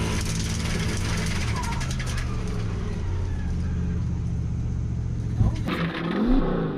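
A turbocharged 1UZ Lexus LS400 drifts a lap at a Three Sisters drift day on worn-out road tyres, its engine roaring loudly and steadily throughout, with a surge and tyre noise near the end.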